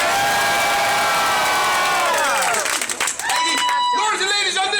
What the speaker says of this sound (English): lords and ladies on this side, you are cheering for Christina